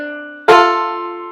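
A single banjo pickup phrase from Kansas City Railroad Blues: a brief held note, then one bright plucked strike with a sharp attack, ringing clearly and slowly decaying, played close and alone.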